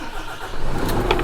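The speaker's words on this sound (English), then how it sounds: "let's start it up and give you a sound of the engine" A Scania truck with a 13-litre, 450-horsepower engine cranks and fires up, its low rumble rising into a steady, loud idle close by, with no speech over it.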